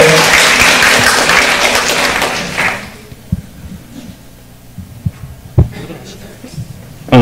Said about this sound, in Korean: 이동건 구청장님을 여러분의 큰 박수로 모시도록 하겠습니다.